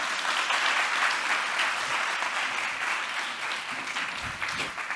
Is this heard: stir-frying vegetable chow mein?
no